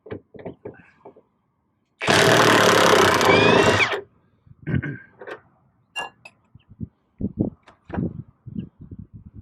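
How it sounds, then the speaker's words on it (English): A power tool removes bolts inside the cargo area of a Jeep JK, one loud two-second whirring burst amid quiet clicks and handling noises, with voices talking around it. "we have a few more bolts to remove, basically on the insides of here. So we're going to take those out"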